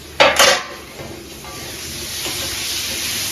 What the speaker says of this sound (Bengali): এখানে ছেলের জন্য একটুখানি চিকেন রান্না করছি